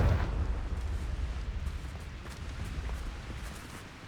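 Confringo blasting spell detonating in Hogwarts Legacy, a loud booming explosion with a deep rumbling tail that rolls on for several seconds, with no talk over it.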